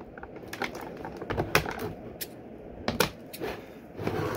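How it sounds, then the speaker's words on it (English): Scissors snipping plastic ties on toy packaging during a Masters of the Universe Origins Battle Cat unboxing: a run of sharp, irregular clicks and snaps, close up, over quiet handling noise. "Plastic be damned,"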